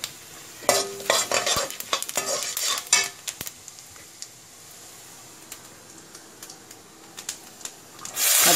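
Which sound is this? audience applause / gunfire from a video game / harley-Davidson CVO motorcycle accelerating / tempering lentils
tempering lentils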